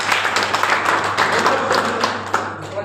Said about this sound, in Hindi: मैं चाहूंगा नेटवर्क मार्केटिंग के लिए जोरदार ताली होनी चाहिए सब